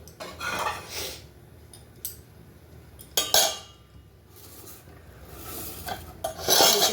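A metal lid set onto a cooking pot in a home kitchen while jaggery-sweetened food cooks, a few scraping clinks and a sharp clatter near the middle, with softer rubbing metal sounds around it.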